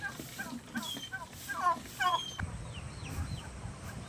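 Chickens on a farm with ducks nearby cluck in a few short, mid-distance bursts over an outdoor background, then a fainter, quieter stretch follows.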